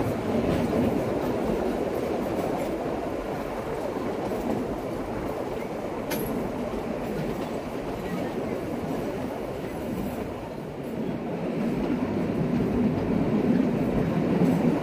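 Kalka–Shimla toy train rolling along its narrow-gauge mountain rails, a steady loud rumble with rhythmic wheel clatter throughout, heard from aboard, and a brief metallic squeal near the middle.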